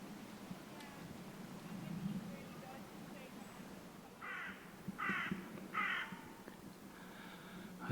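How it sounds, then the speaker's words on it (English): A crow caws three times from the trees above a lake, harsh, evenly spaced calls carrying from some distance over a quiet outdoor background with faint low rumble. "I just hear a crow cawing in the trees up there"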